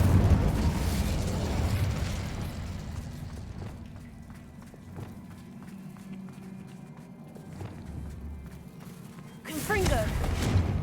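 An Incendio fire spell cast in Hogwarts Legacy bursts with a loud fiery roar that fades into quieter rumbling and scattered clicks, then another fiery burst flares up near the end.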